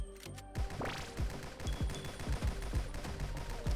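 Rapid gunfire from a video game gun with a splitting magazine, each bullet bursting into smaller sub-bullets, fires as a steady run of about a dozen sharp shots, loud and up close with no talking.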